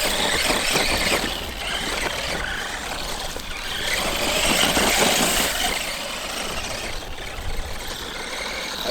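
A T2M XTS brushed RC car driving over small rocks gives off a continuous high whining motor with a gritty crunch and rattle of stones, fairly loud and close.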